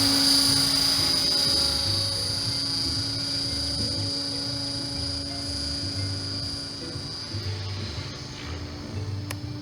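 A model RC helicopter's main rotor spins steadily with a constant whine and drone, fairly close and continuous throughout, with no talking over it.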